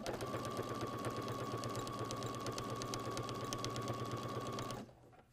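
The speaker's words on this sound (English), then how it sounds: "I've threaded my machine, like I said, with a yellow thread, and I've set it up with a zigzag stitch" Home sewing machine threaded with yellow thread, running a short, narrow zigzag satin stitch for appliqué on a quilted hot pad: a steady, fast mechanical whir with rapid needle ticks and a constant hum, alone, stopping abruptly near the end.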